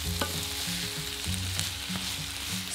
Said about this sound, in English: Stir everything together and cook for 2 to 3 minutes.